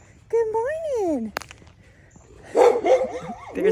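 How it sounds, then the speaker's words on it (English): A dog barks and yips in a couple of short bursts at close range, with a second dog nearby staying quiet and a person's friendly voice greeting them. "One of them is barking, one could care less."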